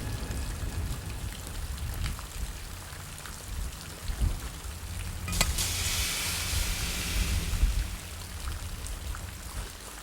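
Steady rain patters and hisses throughout, with a brief louder splash or gust swelling in the middle before settling back to a constant wash.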